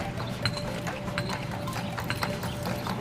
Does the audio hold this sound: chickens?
no